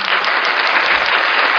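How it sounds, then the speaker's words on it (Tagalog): A church congregation breaks into loud, sustained applause, many hands clapping together in an even wash that holds steady throughout. "Palakpakan natin ang Panginoon."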